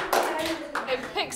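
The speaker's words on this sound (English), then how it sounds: "I think that deserves a clap too." A primary school classroom of children claps briefly after a reading, a short patter of small hands mixed with a voice and some talking.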